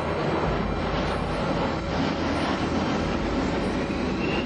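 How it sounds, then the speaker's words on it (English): A fully automated, computer-flown airplane gives a steady, loud broadband engine roar that holds at an even level throughout, with no voices. "This is the first fully automated plane"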